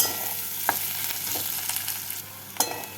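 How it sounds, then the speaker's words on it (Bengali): Grated garlic and onions fry in a pan with a continuous bright sizzle, plus a few distinct scrapes of a spatula stirring, heard up close without any voices. "এবার এর মধ্যে গ্রেট করা রসুনগুলোকে দিয়ে নাড়াচাড়া করে নেব"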